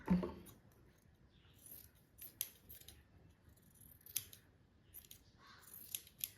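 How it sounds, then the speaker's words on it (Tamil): Scissors cut through blouse fabric in a series of crisp snips, the louder strokes landing at irregular intervals over a faint background, with no voices. "அதில் கொஞ்சம் மட்டும் துணி இருக்கிற மாதிரி நீங்கள் இதை வெட்டி விட்டுக்கோங்க"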